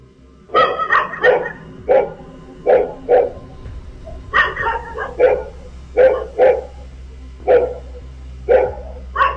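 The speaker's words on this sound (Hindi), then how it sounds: "यहां सड़क पर चलते इस शख्स को देखकर कुत्ते भौंक रहे थे" Dogs bark repeatedly at a man walking along a street at night, loud yaps and bow-wows in uneven bursts with a few higher whimpers, picked up by an outdoor CCTV camera with a steady low hum underneath.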